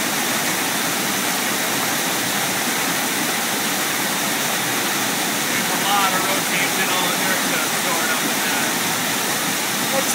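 Water drains out of a hydrocyclone under alpha testing, a steady, loud broadband rush that holds evenly for the whole stretch with no break.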